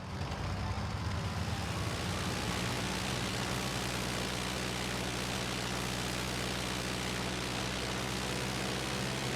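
A steady propeller-plane engine drone from the video game Zwei: The Ilvard Insurrection, loud and continuous, with a constant low hum and broad roar and no talking.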